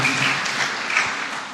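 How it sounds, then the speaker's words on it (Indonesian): A short spell of steady clapping from wedding guests in a church, honouring the newlyweds Abraham and Dira, a dense wash of hands continuing evenly and fading slightly at the end. "Kita boleh beri tepuk tangan untuk Mas Abran Mbak Dira."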